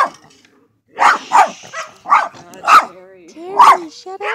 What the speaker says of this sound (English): That's a big fucking dog.